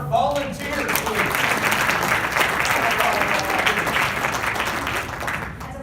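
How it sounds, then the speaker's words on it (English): A summit audience applauds volunteers with sustained, dense clapping that holds steady for several seconds, while a few voices are audible under the applause near the start. "round of applause for our volunteers, please."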